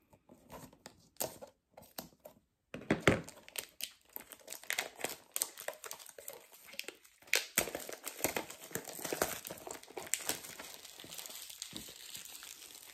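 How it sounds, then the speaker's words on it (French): Scissors snip open a plastic sachet from a mystery minis blind box, giving close, crisp crinkling and cutting sounds in irregular bursts after a few quiet handling noises. "Donc je prends le ciseau pour ouvrir là, le sachet sans abîmer"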